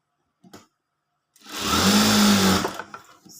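Sewing machine cross-stitching the hem of a blouse gives a single close, steady whirring run of about a second, starting abruptly and then tapering off, with no talk.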